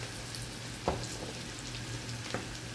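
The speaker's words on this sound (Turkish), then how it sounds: "Yavaş yavaş patlamaya başladılar kızardıkça." Frying food sizzles quietly in hot oil, a soft constant hiss broken by two sharp pops as pieces burst, heard close and alone.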